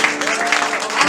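A church congregation at a gospel service applauds in a brief, dense wash of clapping and crowd noise that continues steadily throughout.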